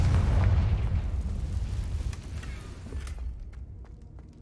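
A Confringo spell explosion in the video game Hogwarts Legacy: a deep, rumbling blast that hits loud and then decays over several seconds, with faint clicks and taps trailing at the end.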